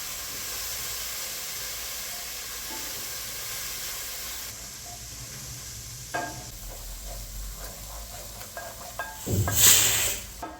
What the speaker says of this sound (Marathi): आता ही अद्रक लसणाची पेस्ट टाकून घेऊ. पण छान परतून घ्यायची.